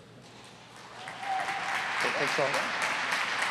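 Applause from a symposium audience swells and holds steady for a speaker taking the stage, a dense crowd clapping with a brief spoken thanks heard over it.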